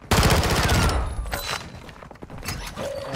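Rapid gunfire strikes the player in a shooter game during an extraction, a dense burst of sharp close shots at the start easing into scattered cracks, thuds and mechanical clatter.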